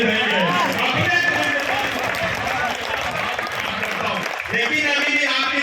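Applause from an audience at a patriotic Hindi poetry recitation fills the whole stretch, a dense, steady wash of clapping with a voice speaking over it.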